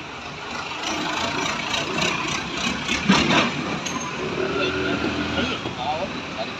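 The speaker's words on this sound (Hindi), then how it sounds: "क्लच का बैरिंग टूट रहा है मुझे लग रहा है" A Maruti Suzuki Wagon R engine with a failing clutch bearing runs steadily at close range, a continuous mid-pitched drone with a faint rough whine, while people talk over it.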